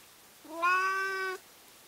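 A single drawn-out cat meow, clear and close, rising slightly then holding steady for about a second in a quiet room on a farm at feeding time.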